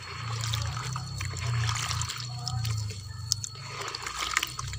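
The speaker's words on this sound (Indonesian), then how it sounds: "selanjutnya kita encerkan dulu ini dengan air kelapa" Coconut water is poured into a stirred mix of palm sugar and soy sauce to thin a homemade liquid fertilizer, giving a soft, continuous trickle and dribble over a low steady hum.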